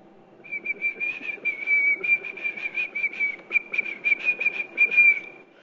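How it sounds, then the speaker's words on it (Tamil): A person whistles a Tamil film song as a guessing-game challenge, a steady high melodic line of short, connected phrases over a low murmur of room sound. "விசில் மூலம் பாட்டு பாட வேண்டும்."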